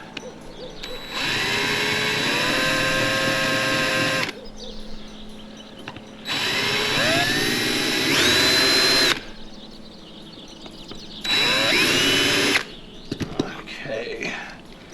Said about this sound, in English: I meant to drill the front out here a little bit more.